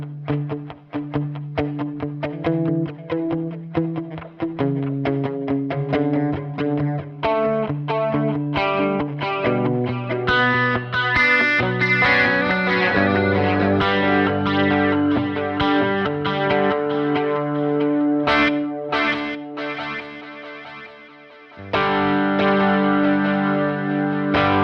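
Electric guitar through a Line 6 Helix, playing chords and melodic lines through a dotted-eighth delay with heavy modulation, repeats shimmering and overlapping, steady and fairly loud throughout.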